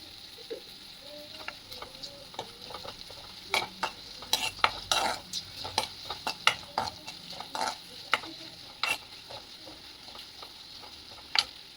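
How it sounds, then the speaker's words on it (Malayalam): A lemon pickle mixture with turmeric is sautéed in a pan, giving a low background sizzle under frequent sharp spoon scrapes and clinks against the pan, in irregular bursts with no talking. "ഇനി ഇത് നന്നായിട്ടൊന്ന് വഴറ്റിയെടുക്കാം."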